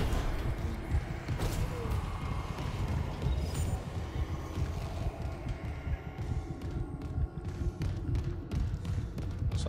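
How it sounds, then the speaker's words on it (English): A heartbeat in the horror game Dead Space, heard as a steady run of low, dull thumps beneath faint mechanical game ambience, close and persistent throughout. "It's a heart beating out his chest right now."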